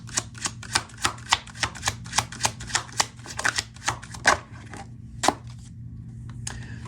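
Tarot cards shuffled by hand in a quick, steady run of crisp riffling flicks, about a dozen evenly spaced bursts close up, slowing and trailing off into a few scattered taps near the end.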